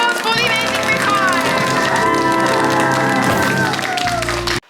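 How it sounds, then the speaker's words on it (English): Applause from the TV show H2O, a dense burst of clapping and cheering with music layered underneath, loud and continuous before cutting off abruptly near the end. "Applause for the amazing Rico!"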